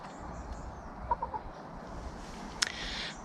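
Hens clucking softly in their backyard run under tarpaulin cover, a few faint, distant clucks rising briefly over a steady background hiss.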